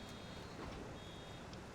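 A farm baler, having just dropped a bale in a field, gives a faint, steady high electronic beep over a low rumble of machinery.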